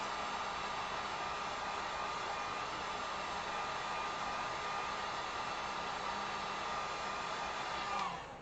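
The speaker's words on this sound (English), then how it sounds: "let me just hit this one more time with the heat gun" A heat gun dries acrylic paint on a wooden sign, giving a steady, loud, close blowing hiss that runs without a break and cuts off right at the end.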